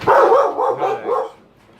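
A dog barks close by and loudly, a quick run of several sharp yelping barks in rapid succession that trail off, inside a workshop where a 1977 Trans-Am is being built.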